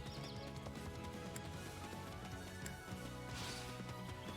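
Rapid, steady hoofbeats of a galloping horse in the video game Fire Emblem Warriors: Three Hopes, heard throughout over dense, loud game music and effects.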